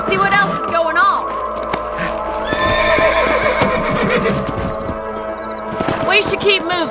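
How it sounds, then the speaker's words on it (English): Horses in Red Dead Redemption trot with a steady clip-clop of hooves, broken by loud whinnies and neighs. People talk over the hoofbeats. "Let's get back on the horses and see what else is going on."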